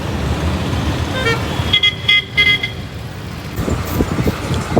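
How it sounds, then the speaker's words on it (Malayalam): Inside a bus travelling the road toward Kannur, a steady loud rumble of engine and traffic noise fills the ride, with a few short horn toots sounding near the middle. "തളിപ്പറമ്പിൽ നിന്ന് ബസ്സിന് കയറിയിട്ട് നേരെ വീട്ടിലേക്ക് പോയിക്കൊണ്ടിരിക്കുക"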